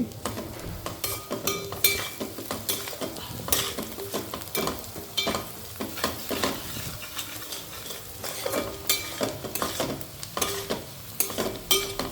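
Egg curry with turmeric being stirred in a pan produces a steady run of scraping and clinking spoon strokes over a constant sizzle, close and fairly loud, with no talking.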